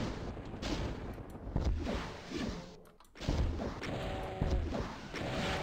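Repeated loud rocket launcher blasts and explosions in Ultimate Doom, several booming shots in quick succession with crashing impacts and a brief lull in between.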